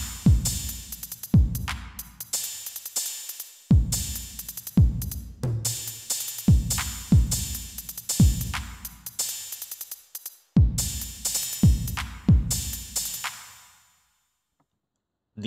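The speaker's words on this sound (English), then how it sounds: "This is the same drum loop that we heard earlier," A drum loop resynthesized in OpenMusic with a new set of replacement samples plays sharp, punchy hits in an uneven repeating pattern, each with a short decay, then fades out near the end.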